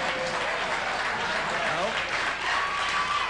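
A studio audience on a late-night talk show applauds continuously, a dense wash of clapping at even loudness throughout, with faint voices showing through.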